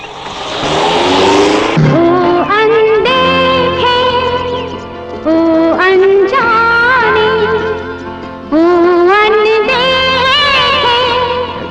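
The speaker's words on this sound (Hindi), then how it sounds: "गाड़ी यहाँ मुड़ी।" A car engine roars loudly and revs up through the gears, the pitch climbing and dropping as the vehicle drives and swings around a turn, with a short tire squeal and no voices.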